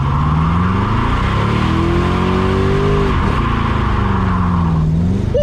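A cheap LS-swapped muscle car, left in drive, roars loudly as its tires spin in a burnout, the engine note climbing, dipping and climbing again in a steady, close, continuous howl with rubber squeal underneath.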